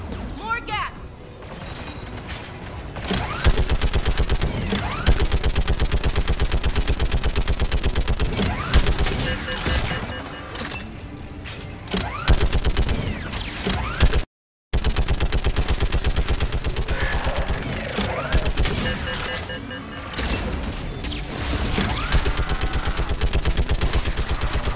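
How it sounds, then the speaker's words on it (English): Geth turret fire in the Mass Effect 3 video game sounds as sustained, dense bursts of rapid automatic shots with clattering impacts, loud and nearly continuous, breaking off briefly midway, with game voices shouting over the battle. "Shepard, you should be able to use the Geth turret."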